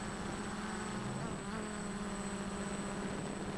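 The motors of a 3D X8 GPS telemetry drone buzz steadily in flight, a continuous high insect-like whine with a slight dip in pitch as it shifts, no talking over it.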